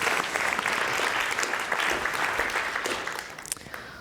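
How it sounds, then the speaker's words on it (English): Sustained applause from a conference audience for a departing speaker, a dense steady wash of many hands clapping that holds loud for about four seconds and tapers slightly at the end. "A big round of applause."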